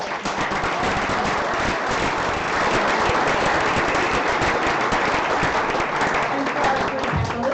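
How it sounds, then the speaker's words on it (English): Loud, dense audience applause for five presenters at the Accelerator Frankfurt demo day, a continuous crackle of many hands clapping at an even level throughout, with no talking over it. "let's give a big round of applause for all 5 presenters"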